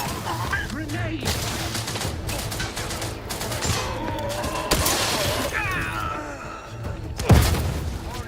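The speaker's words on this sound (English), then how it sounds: "Grenade!" A grenade blast and bursts of gunfire in the sci-fi shooter The Outer Worlds 2, with rapid shots throughout and a sharp, loud detonation near the end, mixed with game voices and music.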